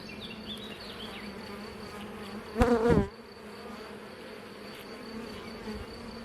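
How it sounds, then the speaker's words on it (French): Honeybees buzz steadily around an open hive in a low, continuous hum, with a brief louder burst partway through as insects pass close. "donc là on a quelques abeilles qui courent là-dessus."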